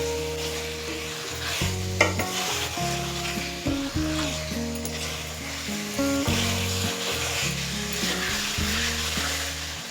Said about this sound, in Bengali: তিন চার মিনিট চিকেন রান্না করে নিয়েছি